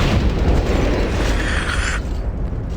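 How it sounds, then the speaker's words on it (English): A heavy explosion in the Vampire: The Masquerade - Bloodlines video game, a loud rumbling blast with crackling debris that cuts off sharply partway through, leaving a low residual rumble. "That would be an explosion."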